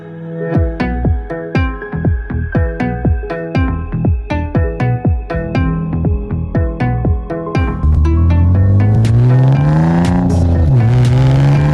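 A car engine revs in a rapid series of short, loud bursts, climbing and dropping in pitch, then settles into one sustained, roaring acceleration as the vehicle drives along a road, used as a story sound effect.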